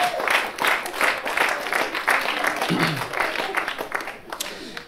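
A comedy show audience applauds and cheers together in a hall. The clapping is dense and sustained, with crowd voices mixed in, and it thins near the end.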